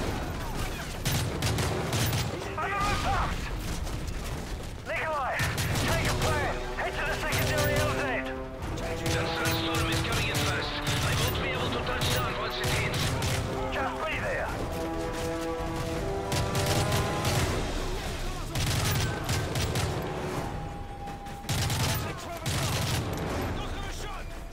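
Heavy gunfire in Call of Duty: Modern Warfare 3 crackles almost continuously in dense volleys mixed with blasts and crashes, while voices talk intermittently over the shooting.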